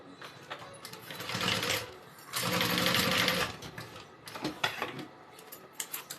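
A sewing machine stitches the side of a custom backpack in two longer whirring runs and a few short bursts, close and mechanical, with quiet pauses between.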